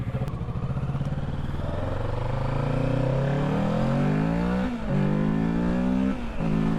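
A 2024 Kawasaki Ninja 650 motorcycle accelerates hard at full throttle, its engine note climbing steadily through the revs. Two brief dips mark gear shifts before the pitch rises again, loud and close, with no talking over it.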